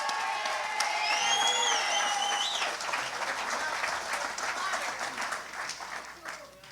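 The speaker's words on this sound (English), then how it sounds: "I want to ask you to give your leader and his executive a big round of applause" A party convention audience applauds its leader and executive with loud, sustained clapping and cheering, whistles and whoops rising over the crowd early on before the applause gradually thins.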